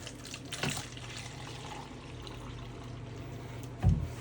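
Water poured over potted plants to soak them, a steady trickling flow with soft splashes at the start and a louder gush near the end.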